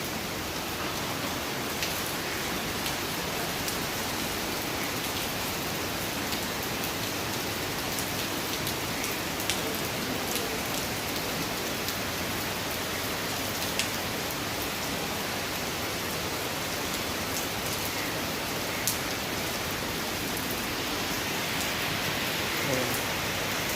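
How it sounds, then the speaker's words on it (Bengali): Heavy rain pours steadily outdoors, a dense, even hiss of drops on surfaces that holds at a constant level throughout, with no pauses or voices. "বৃষ্টি পড়ছে ভয়ঙ্কর"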